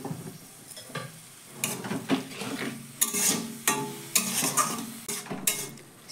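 A cauliflower mixture cooking in a pan after a splash of water is added, soft sizzling with irregular spatula scrapes and clinks against the pan, no voices.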